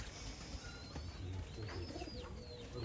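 Pigeons coo softly in a loose, rolling pattern against a steady background hum and faint chirps. A few short wing or bird sounds stand out, and no one is talking.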